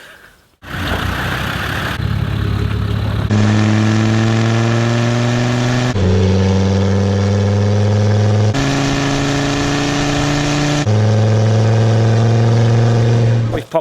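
A Land Rover off-roader cruising on an open road, its engine a steady mid-pitched drone that climbs through several gear changes, each rising whine dropping back as the next gear takes hold, loud and close with no talk.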